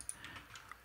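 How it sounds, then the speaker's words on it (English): Light typing on a computer keyboard, a few quiet, irregular key clicks in quick succession, faint and close with no talk. "typing"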